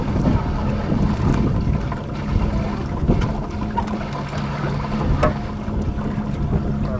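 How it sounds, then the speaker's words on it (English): Motor Guide 10-point trolling motor on a fishing boat out on Lake Arlington, a steady low drone with water wash and some wind buffeting, continuous and fairly close. "I've got my motor guide, 10-point trolling motor over here"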